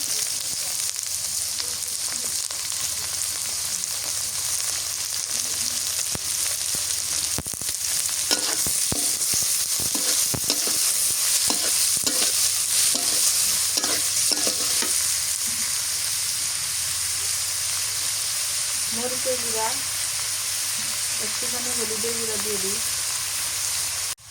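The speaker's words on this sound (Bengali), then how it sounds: "চিংড়ি মাছটা ভাজে নিই" Prawns fry in hot oil in a pan in a village kitchen, with a continuous bright sizzle and repeated scraping stirs, and a voice is faintly heard near the end.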